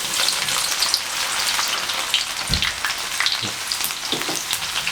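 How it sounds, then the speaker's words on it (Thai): Garlic frying in hot oil for pork crackling chili paste, a loud, dense, bubbling sizzle with crackles and occasional stirring knocks, steady and close throughout. "ตอนนี้น้ำมันผมร้อนแล้วนะครับเพื่อนๆเพื่อไม่ให้เป็นการเสียเวลา อ่า เราก็จะใส่กระเทียมลงไปเจียวเลยนะครับ"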